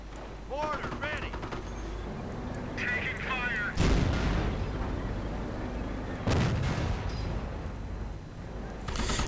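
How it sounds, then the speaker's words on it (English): Repeated heavy artillery blasts and gunfire from a World War II strategy video game, with booms spread across the clip amid a dense battle din while a commentator talks over it. "Just lots of artillery"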